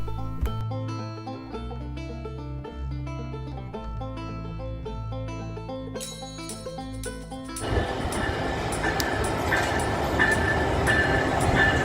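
Inside a passenger train on a cross-country run from Jacksonville to Philadelphia, a low steady rumble and hum of the moving car fills the space, joined later by louder rattling and track clatter.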